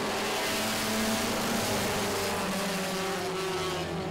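Several race cars at a Memorial Day weekend heat race at Baer Field Motorsports Park roar away together on the green flag, a dense, steady, loud engine drone holding throughout with no talk.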